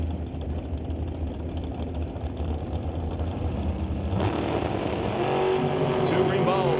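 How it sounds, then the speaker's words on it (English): Drag racing cars launch down the strip at a door-car eliminations event, a rising engine roar that builds sharply partway through and climbs in pitch, with an announcer's voice over the noise. "Gerard gets around Dowdy and will take that one by 18 thou"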